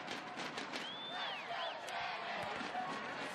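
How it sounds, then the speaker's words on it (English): Crowd at an evening beach volleyball final in Omaha rooting for hometown player Jenny Kropp, a steady roar of cheering with a few rising whistles, distant and continuous throughout. "The crowd rooting on the hometown hero,"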